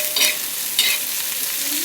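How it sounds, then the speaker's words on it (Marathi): Chopped onion fries in a pan over a high flame, giving a loud, close, continuous sizzle with two brisk stirring strokes rising above it and no talk. "कांदा आपण छानपैकी फ्राय करूया।"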